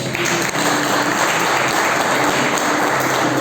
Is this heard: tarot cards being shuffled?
no